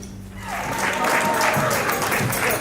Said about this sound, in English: thank you for cheering as you see fit